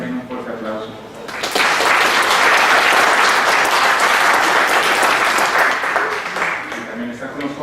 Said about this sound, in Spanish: También un fuerte aplauso, por favor.